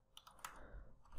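A few scattered keystrokes on a computer keyboard while entering a date into a keyword list, quiet clicks spaced irregularly with no talking.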